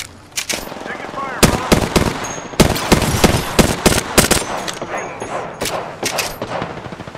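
Rapid automatic gunfire from the video game Apex Legends, loud and close, in repeated bursts of sharp shots with short pauses between volleys.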